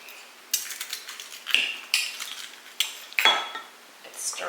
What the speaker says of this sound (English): Let's stir in this real quickly.